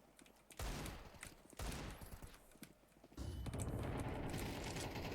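Rapid bursts of gunfire in Counter-Strike 2, loud and dense, in several volleys that grow into continuous shooting, with no talk over them.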